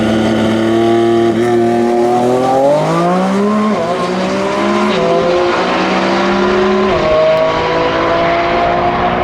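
Lamborghini Revuelto engine revving loudly up close as it pulls away, rising and falling harmonic engine tones shifting through gears with a brief tire squeal, no talking.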